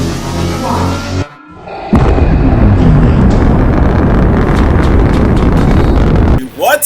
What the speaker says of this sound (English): The engine is starting up.